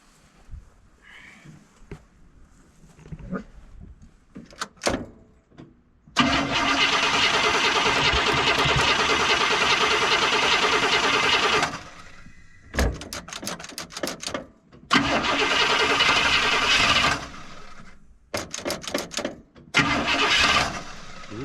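The General Lee, a Mopar car with a carburetor, cranks over several times in loud, close bursts of steady engine roar, each cut off abruptly, with short clicks and brief voices in the gaps.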